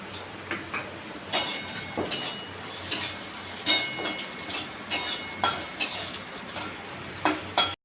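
Chopped drumstick (sajne) pieces fry in hot oil in a pan with a steady sizzle, while a utensil stirs and scrapes with repeated clinks and taps roughly every half second, close by and without talk.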